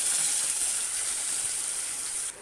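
A little water poured into a cooking pan for a katla fish dish, a steady close gushing hiss that runs for about two seconds and then cuts off, with no voices.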